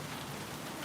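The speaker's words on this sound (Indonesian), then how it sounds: "iya hujan deras ini" Heavy rain pouring down in a relaxed outdoor hut setting, a dense, steady hiss of continuous noise with no pauses, close and full for the brief moment heard.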